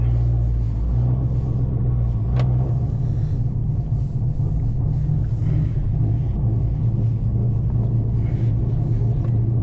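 A Chevrolet Camaro ZL1 cruises along, a steady deep rumble with road and wind noise heard from inside the car.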